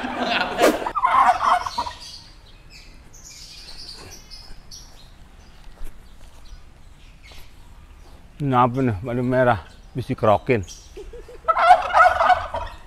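Chickens clucking close by in short bursts at the start and again near the end, with people talking over and between the calls.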